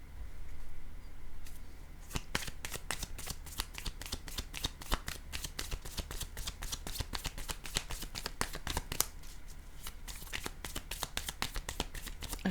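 Tarot cards are shuffled in a long run of quick, crisp riffling slaps at close range, fairly quiet, with no voice over them.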